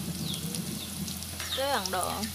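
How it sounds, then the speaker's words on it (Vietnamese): Young jackfruit frying in plenty of hot oil over high heat for a vegetarian dish, a soft continuous sizzle and crackle close by, with a brief voice cutting in partway through. "Các bạn mà chiên mà dầu nhiều mà lửa lớn ha"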